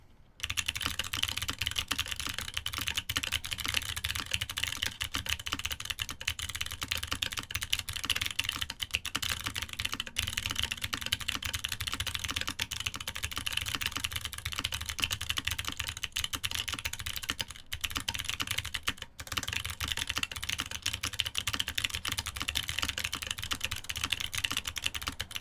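Clicky computer keyboard typing, a steady stream of sharp keystrokes heard up close and fairly loud for the whole stretch, with no voices over it.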